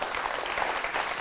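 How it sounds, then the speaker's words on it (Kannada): An audience at a singing reality show claps in a brief, dense burst of applause, steady and fairly close, with no voices over it. "ಜೋರು ಚಪ್ಪಾಳೆ ಬರಲಪ್ಪ."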